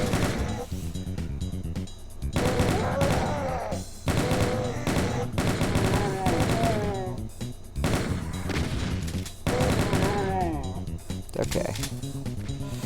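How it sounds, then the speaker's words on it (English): Chaingun fire in the video game Doom 2: TNT Evilution, heard as loud rapid bursts of repeated shots in several long runs, mixed with monster cries and game effects. "now we're gonna keep the chain gun out"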